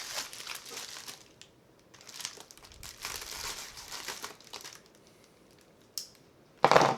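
Package packaging is crinkled and torn open in several close, fairly quiet rustling bursts with pauses, ending in a sharper crackle, and no one speaks.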